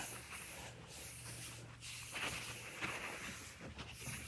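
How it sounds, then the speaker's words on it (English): A cloth wipes degreaser over a car body panel being prepped for body filler, giving soft, close, hissing swipes in a loose repeating rhythm. "Now I am going to wipe this down with some degreaser."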